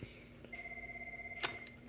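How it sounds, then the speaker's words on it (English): A wall-mounted Cisco IP phone rings nearby with a steady electronic warble, a pulsing tone that holds and then cuts off, with a few clicks over low room hum. "That's my Cisco phone."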